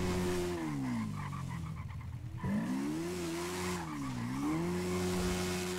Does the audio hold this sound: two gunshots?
no